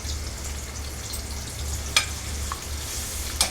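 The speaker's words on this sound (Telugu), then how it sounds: "ఒక 2 నిమిషాలు అయితే చక్కగా ఆనియన్ ఫ్రై అవ్వనిద్దాం" Onions frying in a pan for Telugu-style fish curry (chepala pulusu), a steady close sizzle throughout with a couple of brief sharp clinks of stirring.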